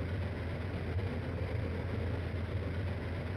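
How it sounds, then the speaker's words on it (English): Freeway traffic with a passing train, a sound effect from the game Stunt Island: a steady, dense low rumble and wash of engines that holds at an even level throughout, with no voices. "Freeway with train."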